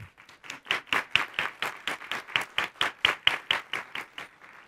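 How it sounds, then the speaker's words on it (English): Applause from the audience at a Hamilton-Wentworth District School Board meeting for a student award winner, heard as a string of sharp, evenly spaced claps in a quick, regular rhythm that fades slightly at the end. "And join me in a round of applause for Eshal."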